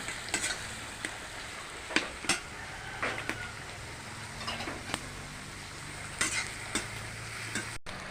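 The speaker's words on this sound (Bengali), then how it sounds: "ভালো করে ভাজিয়ে নিতে হবে এই চিংড়ি মাছটা" Small shrimp frying in a pan, heard as a steady low sizzle with scattered scraping and stirring clicks from a utensil against the pan, close and fairly quiet, with no voices.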